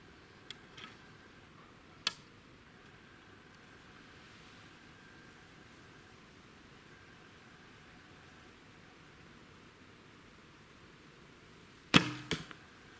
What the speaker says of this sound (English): If you listen, there is a bit of a twang to this bow